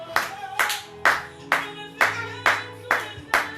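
A church congregation clapping in unison, eight loud, evenly spaced rhythmic claps close by, with no voices.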